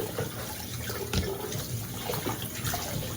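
Running tap water splashes while fresh galunggong fish are rinsed in a kitchen sink, a continuous close-up wash with occasional small knocks and splashes.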